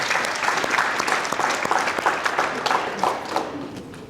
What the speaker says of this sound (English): we'll give them another clap.